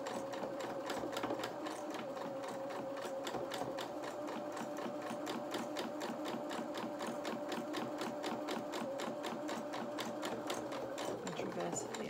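A sewing machine strains through thick fabric, its needle pounding out a fast, even, mechanical rhythm that runs close and continuous throughout.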